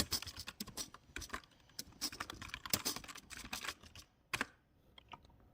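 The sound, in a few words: typing a command on a computer keyboard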